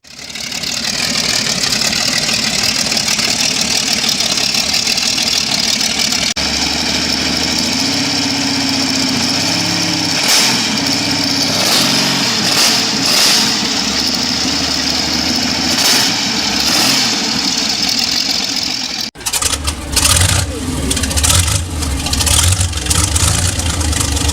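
A big old engine from a Tiger tank runs loud and close, a rough, knocking idle with surging rhythm that shifts partway through and turns choppier near the end.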